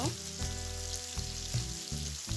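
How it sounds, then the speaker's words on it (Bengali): Pieces of rohu fish sizzle in hot oil in a pan, a steady crackling fry close to the mic with a few light stirring or turning sounds, no talking. "অন্য সাইডটাও আমি এরকমই হালকা ভেজে নিচ্ছি"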